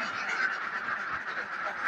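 A crowd of about 100 laying ducks in a pen quacks continuously, a dense overlapping chorus filling the air close by.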